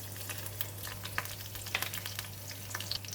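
Spices fry in about two tablespoons of melted ghee with a steady, close sizzle, broken by scattered sharp crackles and pops throughout.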